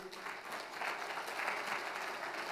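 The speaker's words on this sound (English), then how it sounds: "please give them a big round of applause" A crowd at a business forum applauding steadily for a couple of seconds, dense clapping that swells slightly midway, with no talking over it.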